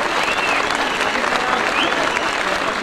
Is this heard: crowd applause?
yes